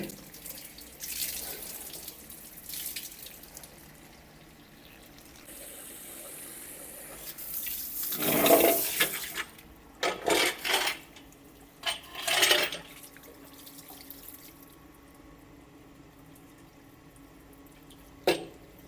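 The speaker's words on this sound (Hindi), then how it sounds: "इस साइड से सिलेंसर के अंदर हम अच्छी तरह पानी लगाएंगे।" Water sprays and splashes into a motorcycle silencer being washed out to clear carbon, with steady running flow and several louder gushing bursts, close and without talk.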